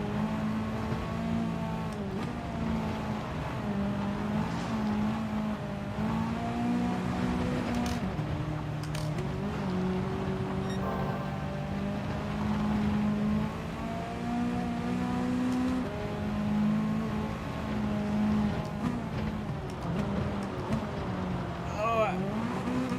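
Race car engine driving around the Sardegna Windmills circuit in Gran Turismo Sport, a steady droning whine that climbs and dips with shifts throughout, with someone talking over it.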